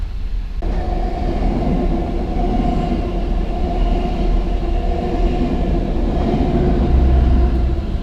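A northbound Metrolink Orange County line train to Los Angeles passes near the beach at San Clemente, a loud continuous rumble and steady rail roar with a low droning hum, no voices.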